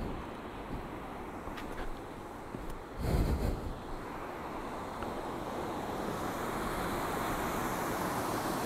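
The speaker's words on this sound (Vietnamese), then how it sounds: "Nghe tiếng thác chảy á." A waterfall pours down a scenic forest stream near Dak Ron bridge on the Ho Chi Minh road in Dak Lak, making a steady, broad rushing roar that fills the whole stretch, with a brief louder surge midway.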